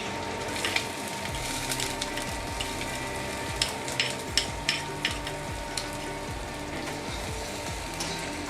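Chopped garlic, ginger and chilli sizzle steadily in hot oil for egg tarka dal, close up, with occasional stirring scrapes and small pops, and no talk.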